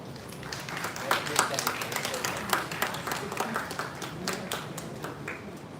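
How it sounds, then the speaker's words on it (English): Conference audience at a university plenary session breaking into applause, a steady patter of many hands clapping at moderate distance, with a voice speaking over it. "Give a huge round of applause"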